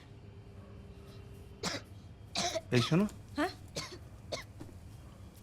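A young woman who got soaked in the rain coughs and clears her throat in a short run of several hacking bursts, close and moderately loud, after a quiet pause; a voice speaks briefly around the coughs.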